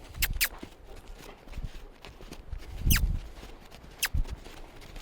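Soft hoofbeats of a cantering horse during liberty training thud on the ground at a loose, uneven rhythm, with a few sharp clicks and rustles in between.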